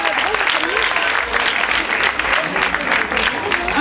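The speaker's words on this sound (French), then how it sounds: "Camille, sous vos applaudissements." A crowd at the Foire du Dauphiné applauds a beauty pageant contestant steadily, a dense patter of many hands clapping at once, loud and sustained with a faint murmur beneath.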